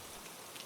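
Rain patters on ancient marble stone steps of the Roman Forum, settling into shallow grooves as a soft, steady hiss with faint scattered drops, close and even throughout.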